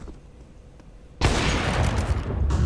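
Dense Counter-Strike pistol gunfire at a pro esports match breaks out suddenly after a quiet moment and stays loud and continuous, with shots overlapping and a faint reverberant crowd and room ambience underneath.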